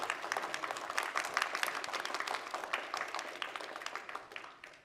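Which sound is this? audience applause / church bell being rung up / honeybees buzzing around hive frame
audience applause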